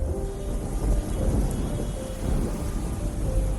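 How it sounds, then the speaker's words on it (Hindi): Heavy monsoon rain pours steadily in Mumbai, with a deep rumble of thunder rolling underneath throughout, loud and continuous with no voices. "क्योंकि बारिश हो रही थी"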